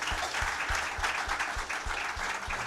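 A church congregation applauding during a sermon, a steady wash of many hands clapping at moderate distance, with a rhythmic low thump running underneath.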